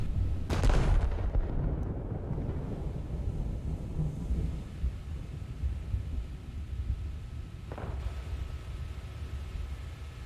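Heavy naval gunfire from a Japanese battleship, the Kongo, in World of Warships: a loud booming salvo near the start, then rumbling low echoes and a second fainter shot later, with no talk.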